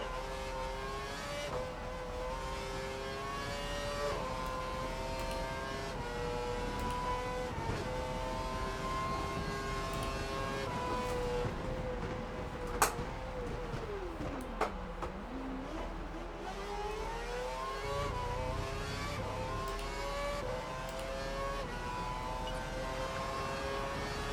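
A Caterham Formula 1 car races in F1 2012, its high engine whine rising and falling through repeated gear changes and dipping once under braking, loud and steady with no talk.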